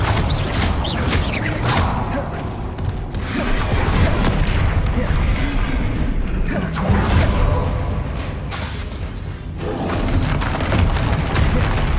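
Confringo spell blasts in Hogwarts Legacy, loud booming explosions with crashing and creaking debris, a sustained rumbling barrage that swells and dips over several seconds.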